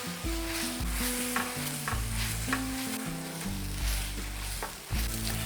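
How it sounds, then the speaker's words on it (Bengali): Vegetarian keema is being sautéed in a pan with turmeric and Kashmiri red chilli powder, a continuous close sizzle under repeated scraping strokes of a spatula, with no talking. "এরপরে আবারও এটাকে কষিয়ে নেব"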